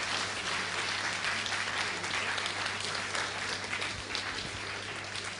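An audience at a public science lecture on comet structure applauds continuously, a thick, even roar of clapping from a large crowd with no break.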